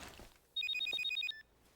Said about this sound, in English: oh, that's Jack's phone